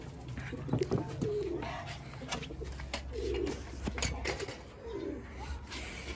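Soft, repeated cooing from domestic pigeons kept for home breeding, in low rolling phrases, with a few brief clicks and rustles around them against a quiet background.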